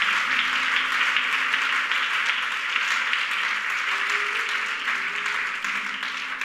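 A church congregation applauding together during a French-language worship service, a steady wash of clapping that holds evenly throughout, with faint voices and some tonal hum beneath it.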